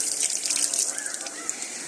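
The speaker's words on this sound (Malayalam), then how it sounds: "വെള്ളം ഒന്നുകൂടി കഴുകിയെടുക്കാം" Water runs steadily from a tap while food is rinsed, a continuous splashing hiss lasting about two seconds at moderate, even volume.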